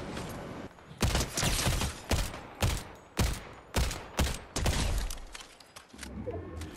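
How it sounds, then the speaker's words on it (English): Loud bursts of gunfire in Fortnite arrive in a quick series of about eight sharp volleys, each decaying briefly before the next, with one longer burst near the end. "Someone's shooting at me from this tree."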